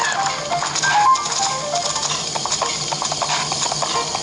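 Horse hooves clip-clop steadily while riding in the video game The Legend of Zelda: Breath of the Wild, a light rhythmic patter at moderate level with busy game sound around it.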